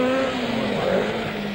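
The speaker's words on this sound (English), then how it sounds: "Russell Brooks leaves the Aviemore start of the Scottish Rally" Rally car pulling away from the Aviemore start of the 1978 Scottish Rally, its engine note loud and close, revving hard and rising steadily as it accelerates off the line.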